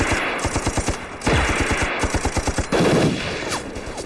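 Heavy machine gun fire rattles in a war film battle scene, rapid evenly spaced bursts of loud, close shots pounding across the whole stretch with slight pauses between volleys.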